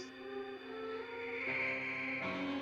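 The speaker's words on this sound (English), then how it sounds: "That's the sound of spaceships flying." Spaceship flight sound effect from the 1959 horror film House on Haunted Hill: a steady, layered electronic whirring drone with sustained tones that shift pitch partway through, continuous and fairly quiet, with no talking.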